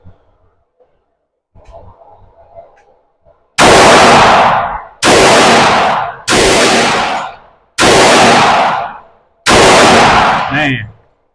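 Five loud pistol shots fired one at a time at a dot drill target, using a 9mm Glock 19X and a .45 ACP Glock, spaced about a second apart, each with a sharp crack and short decay, after some faint earlier shuffling.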